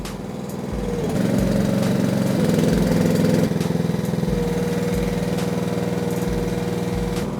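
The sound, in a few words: tracked dumper engine running, throttle raising revs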